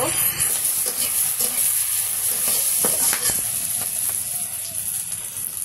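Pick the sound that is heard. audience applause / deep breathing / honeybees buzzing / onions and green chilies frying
onions and green chilies frying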